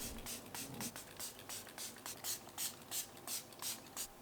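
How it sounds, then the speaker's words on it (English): A hand-pump spray bottle misting the lid of a mushroom fruiting bin, giving a steady run of about fifteen short, quiet spritzes in an even rhythm, close by with no talk. "Then we're going to spray the lid"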